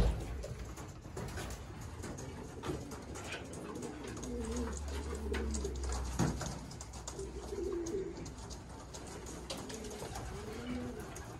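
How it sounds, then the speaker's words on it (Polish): Racing pigeons at a loft, with soft, repeated coos rising and falling close by against a busy background of rustling and other birds. "Wypędzamy już gołębie wszystkie z rozsztuki."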